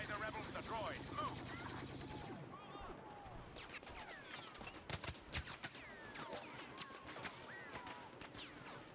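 Blaster gunfire in the Star Wars Battlefront video game: rapid, sharp shots in uneven bursts amid a busy battle din, with whooshing effects and a soft voice audible underneath, all at moderate distance.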